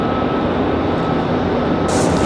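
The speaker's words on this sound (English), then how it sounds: "So this next arrival is American Airlines. American 979 coming in from Dallas Fort Worth on a 737-8." An American Airlines Boeing 737-8 arriving from Dallas Fort Worth to land at Raleigh-Durham roars loud and close, a dense continuous engine rush with a brief hiss rising near the end.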